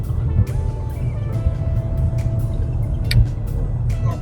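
An old, raggedy car drives along with a steady low road rumble and engine drone, with small knocks and rattles from the cabin.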